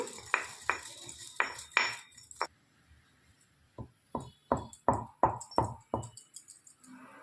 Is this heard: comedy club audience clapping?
no